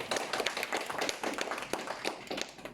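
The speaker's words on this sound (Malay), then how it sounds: "kita beri satu tepukan" Audience applause at a school event, a steady patter of many hands clapping for close to three seconds with no talk over it.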